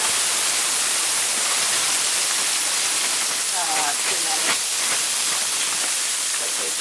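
Southern style hash browns frying in stir fry oil in a pan at a cabin breakfast, a steady loud sizzling hiss throughout with a few faint crackles.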